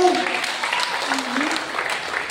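A congregation at a Sunday church service claps loudly and continuously, a dense, even wash of hand claps filling the room with no pauses.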